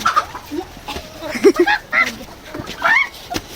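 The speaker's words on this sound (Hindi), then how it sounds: "छोटे छोटे मुर्गे मुर्गी, उनको पकड़ने की कोशिश कर रहे हैं" Small chickens, roosters and hens cluck in a series of short, close calls, with people talking nearby.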